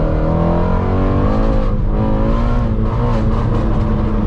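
A Ford Mustang GT350 V8 revving hard with its tires spinning, a loud rich engine roar rising and falling in pitch over several seconds, close up with no talking.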